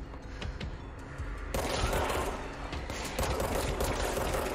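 Gunfire in the video game Control comes as bursts of rapid shots and booms over a dense, continuous clatter of combat noise, with no voices.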